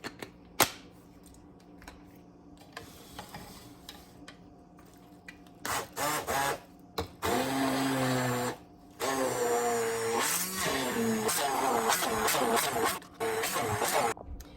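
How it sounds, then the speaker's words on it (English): A blender whirs in short, loud, broken bursts as it blends hard-boiled egg yolks with salt, the motor cutting in and out after a quieter start with a few small knocks. "And now I'm gonna blend it."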